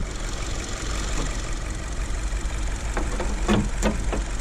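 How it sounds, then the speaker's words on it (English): The Boxer 4 engine of a 2024 Subaru Crosstrek Wilderness idles steadily at close range. A faint, even running hum carries a few light ticking knocks near the end. "Of course, we have Subaru's Boxer 4 engine here."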